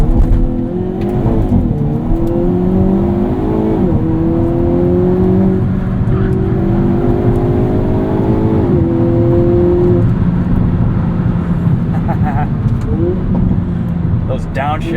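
A 2022 Hyundai Kona N engine revs hard under acceleration, rising through the gears with sharp blips and drops as it downshifts, loud and close from inside the cabin, with a voice talking over it.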